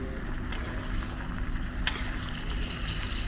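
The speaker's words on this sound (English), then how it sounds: "I can hear something boiling down there." Food bubbles and sizzles quietly in a pot nearby, a soft, steady crackle with a few sharper pops.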